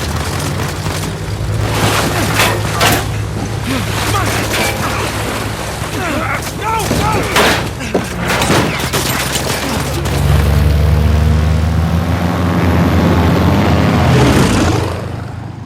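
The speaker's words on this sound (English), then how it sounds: "They shot up my goddamn plane, mate" Gunfire and a plane engine in the Uncharted 4 video game, loud booming shots and bursts crowding the first half, then a sustained low aircraft drone swelling up, with voices talking over the action.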